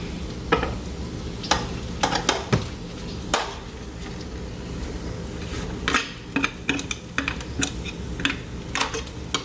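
Sausage and beans from the air fryer are stirred in a frying pan, with utensil scrapes and clacks over a steady low sizzle, close up and without speech.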